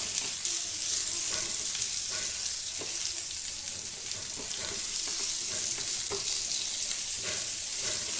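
Broad beans are stirred in a hot pan with salt, turmeric and sambar powder, giving a continuous close sizzle with scraping stirs and soft knocks of the spoon, and no talking.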